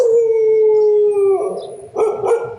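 A dog lets out a long, loud, close howl that slowly falls in pitch, then breaks into a couple of sharp barks at the end, with no talk over it.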